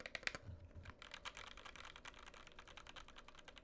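Smooth, lubed switches on a Cannonkeys Satisfaction 75 mechanical keyboard clatter in a steady run of close, crisp keystrokes, the taps coming quickly and evenly throughout with no voices.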